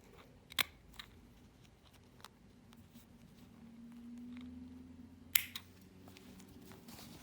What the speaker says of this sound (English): I'm going to just trim the elastic off close to that bar tack